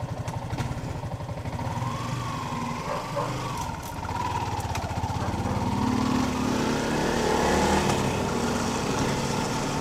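A 2019 Yamaha Sniper 150 motorcycle engine runs just after an ignition-button start, a close, steady putter that idles and then swells somewhat louder toward the end.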